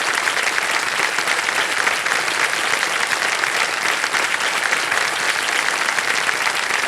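A studio audience on a television quiz game show bursts into loud, sustained applause that stays even and dense throughout, with no voices standing out.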